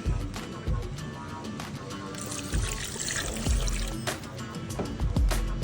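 Water poured from a glass into a pressure cooker holding mutton paya, a continuous trickling splash with a few louder clunks of handling, close and without talk.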